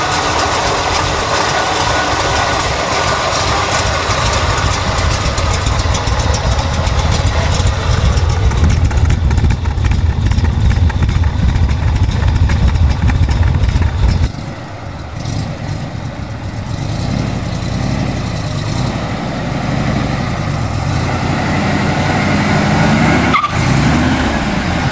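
A 1975 Corvette Sportswagon with an aggressive cam idles loud and close, a lumpy rumbling lope that holds steady with a brief dip partway through.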